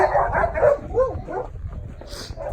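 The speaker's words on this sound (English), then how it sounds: "So yeah, on cue they did bark" Dogs bark at a passing horse out on a solo hack, a few close, loud yips and barks with whimpering in between, and a brief hiss near the end.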